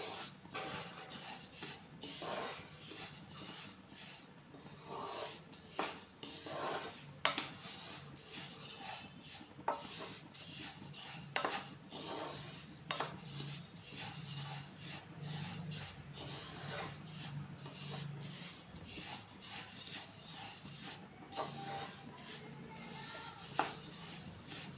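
A spoon scraping and stirring a sesame and milk cream mixture in a pan, with continuous soft rubbing and occasional sharper scrapes, close and fairly quiet.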